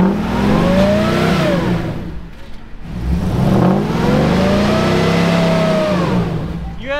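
A truck engine revs hard in two-wheel drive while trying to pull free during a recovery in extreme heat, with two long loud surging runs separated by a brief dip in the middle.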